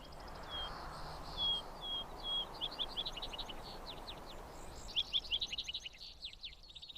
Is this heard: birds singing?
yes